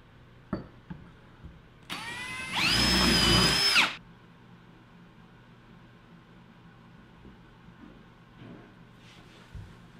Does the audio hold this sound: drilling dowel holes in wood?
yes